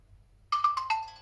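A Motorola Edge 50 Neo ringtone sounds as four bright descending melodic tones in quick succession, close and clear over a faint low hum.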